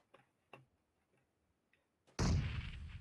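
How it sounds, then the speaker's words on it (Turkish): A grenade blows up in PUBG Mobile: a few faint ticks, then a sudden loud, close blast that rolls on as a rumbling decay. "Bomba atıyor."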